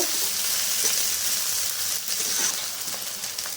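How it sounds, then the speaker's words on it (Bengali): Green chilli paste sizzling in hot oil in a pan for a prawn mixed-vegetable ghonto, a steady close, crackling hiss that continues without pause. "ভালো করে একটু ভেজে নেব।"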